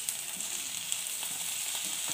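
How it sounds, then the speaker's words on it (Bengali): Chopped tomato fries in a pan with fried onion, ginger and garlic paste, giving a soft, steady sizzle with faint crackles, quiet and close, with no voices. "এখানে এবারে আমি দিয়ে দিচ্ছি কুচানো টমেটো"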